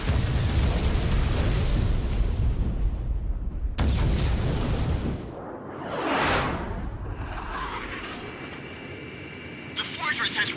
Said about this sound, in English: The shock cannon is preparing to fire again.